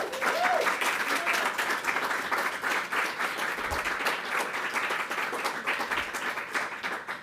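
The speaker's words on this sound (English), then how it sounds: "Let's give them all a round of applause." Steady applause from a crowd fills the whole stretch, dense clapping with no pauses.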